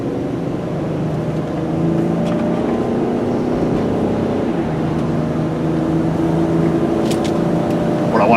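A Honda car driving down the road while its heater and thermostat are tested, with a steady engine drone and road noise throughout, a slight rise in level partway, heard from inside the cabin with no talking.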